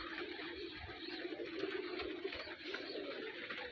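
Pigeons coo softly amid a steady, dense murmur of birds, a continuous low flock hubbub without speech.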